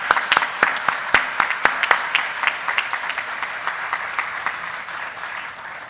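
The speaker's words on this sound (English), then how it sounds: "let's show our appreciation for the 2014 volunteers with a" Audience at an annual general meeting giving a round of applause, several sharp claps up front blending into a steady wash of clapping that gradually tapers.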